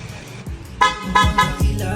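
A motorcycle horn, an aftermarket loud horn on a Honda Rebel 1100, honks loudly several times in quick succession, short sharp blasts close by over a low engine rumble.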